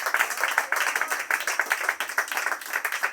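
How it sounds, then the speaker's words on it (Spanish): A church congregation claps together in a steady, rapid rhythm, the crisp hand claps close and loud and carrying on for the full few seconds without talk. "Denle un fuerte aplauso al Señor en esta mañana."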